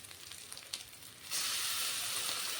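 Onion and ginger paste hits a hot pan for a Bengali cauliflower fish curry, and a bright, steady sizzle jumps up abruptly partway through. It stays loud and close after a quieter start.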